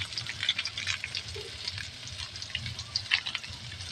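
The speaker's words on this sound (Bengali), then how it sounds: "এবার এটা কিছুক্ষণ ধরে ভাজা ভাজা করে নেবো" Soybean chunks fry with spices in a pan, a low crackling sizzle with light stirring scrapes, close and moderately quiet, steady for a few seconds without talk.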